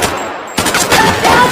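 Rapid gunfire from a battle between Nazi soldiers and fighters inside a church, loud dense bursts of shots like a fusillade following a brief lull.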